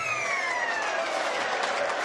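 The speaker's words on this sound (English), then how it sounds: "Oh, there's the hooter." A loud full-time hooter sounds at a rugby league Challenge Cup match between Whitehaven and St Helens, a sustained tone held for about two seconds over the steady hubbub of the crowd at an old recreation ground.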